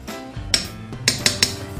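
Roasted chicken noodle soup is stirred in a pot, giving a few close metallic clinks and taps of a utensil against the pot rim over soft scraping and a low background hum.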